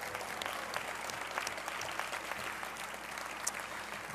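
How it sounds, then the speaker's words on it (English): A crowd applauds steadily at a civic event for the Wharf development, the clapping fairly faint and distant, dense and unbroken throughout. "Can we give them a round of applause"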